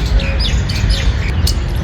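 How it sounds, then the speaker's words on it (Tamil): A squirrel calls at the Red Fort in Delhi, its short high chirps repeating over steady outdoor background noise, with other birdsong mixed in. "அந்த அணில் கத்துற சவுண்டு."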